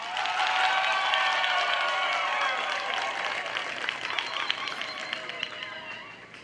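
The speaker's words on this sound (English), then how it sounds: "Graduates, clap." Dense, sustained applause from graduates at a public university graduation ceremony, many hands clapping at once, loud and steady, slowly thinning toward the end.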